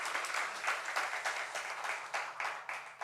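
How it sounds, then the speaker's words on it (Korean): A church congregation at a Korean Sunday worship service claps together, a dense, sustained applause with rhythmic surges, filling the room at moderate loudness. "우리 하나님께 영광의 박수 올려드리겠습니다"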